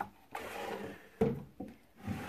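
A makeup vanity drawer slides open in a room, with a few close wooden knocks and brief scraping slides in quick succession.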